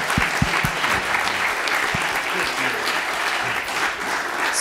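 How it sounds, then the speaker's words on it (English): Loud, steady applause from an audience after a memorial literary reading, dense clapping throughout, with a few low thumps and brief murmurs early on. "One more round of applause, Steve."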